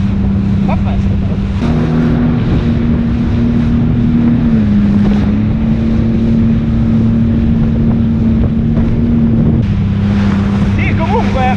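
Jet ski running on open water, a loud steady engine drone with slight pitch shifts, buffeted by wind noise and splashing, with voices faintly audible over it.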